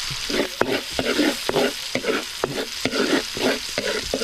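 Vegetables for hardinera with onion sauté in a hot pan, a loud continuous sizzle broken by regular scraping stirs roughly every half second, close up and without talk.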